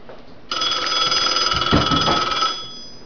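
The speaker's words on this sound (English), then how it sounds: "All right, inbound call. That's the ring on this payphone." An Automatic Electric Company three-slot pay phone rings for an inbound call: one sustained metallic bell ring about two seconds long, loud and close, with no voices.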